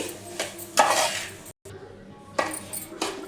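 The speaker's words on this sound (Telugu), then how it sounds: "ఇంకా కొంచెం కొంచెం పోసుకుంటా కలపాలి, మొత్తం ఒకటేసారి పోయొద్దు" A spoon clinks and scrapes around a pot as liquid is poured in little by little and mixed, in bursts of stirring with brief pauses.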